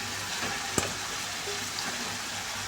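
Cut chicken frying in a pan with whole garam masala, a steady close sizzle with one sharp clink of a utensil early on and light stirring.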